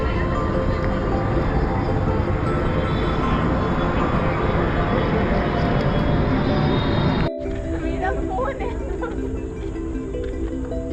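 An airplane drones loudly overhead near Qutub Minar in Delhi, a steady broad roar that holds for several seconds before cutting abruptly to quieter ambient noise with distant voices.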